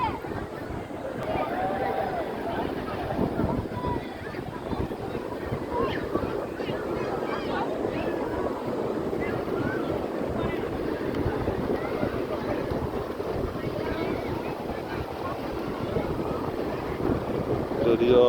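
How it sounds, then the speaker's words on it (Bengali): Strong wind buffets the microphone over rough surf at Sugandha Point beach, a steady loud broadband roar with crashing waves throughout, voices faintly mixed in. "সাগর একটু উত্তাল আজকে প্রচুর বাতাস রয়েছে"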